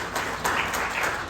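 Audience at a federation meeting clapping, a brief burst of continuous applause from a room of people, moderately loud.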